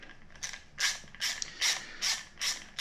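A Snap-on ratchet fitted with a deep socket runs nuts down, giving bursts of quick pawl clicking about every half second, close but fairly quiet, with no talking.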